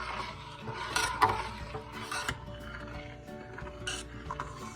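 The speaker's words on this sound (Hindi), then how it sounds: "जब तक इसमें उबाल ना आए तो तब तक जो है ना इसमें चम्मच हिलाना पड़ता है" A spoon stirring yogurt in a pot as it comes to a boil for white saag, with soft repeated scraping and clinks of metal on the pot over a steady background hum.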